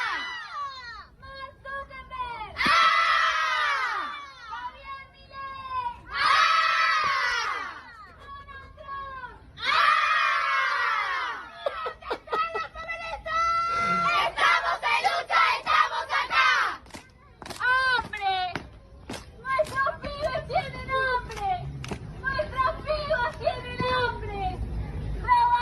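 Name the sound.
crowd of protesters chanting and cheering in Argentina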